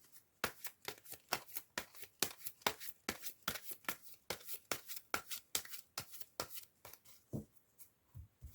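I Ching divination cards are shuffled by hand close to the microphone, a quick run of crisp, evenly spaced riffling snaps, quiet overall with no talking.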